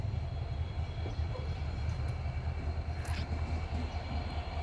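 A train engine idles at Karimganj Junction during an engine change for the Agartala Express, a steady low rumble that carries throughout with faint higher hiss and occasional metallic squeaks.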